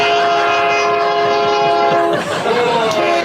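A train sound effect, loud and close, with a sustained horn blast over rolling rail noise. The horn tone bends and shifts near the end as the train passes.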